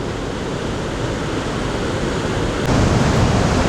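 Water rushes through a narrow channel below the waterfall at Nay Aug Park in Scranton, Pennsylvania, a dense steady roar that grows louder partway through.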